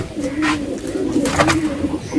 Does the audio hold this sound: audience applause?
no